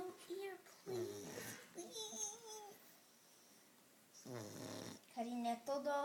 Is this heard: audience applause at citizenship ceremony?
no